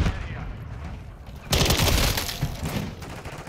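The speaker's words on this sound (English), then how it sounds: "I'm getting shot from every fucking direction" Overlapping gunfire in Call of Duty: Modern Warfare III multiplayer, with a steady spray of shots that jumps louder halfway through, as if several weapons open up at once nearby.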